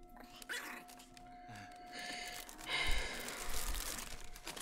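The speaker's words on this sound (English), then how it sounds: "Why is the dog barking at him?" A dog barks a few times amid noisy background sound, with some whimpering between the barks, in the Korean drama series Sweet Home.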